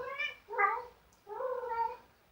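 A female cat in heat yowls in long, drawn-out wails, three separate cries from somewhere in the background of an otherwise quiet room.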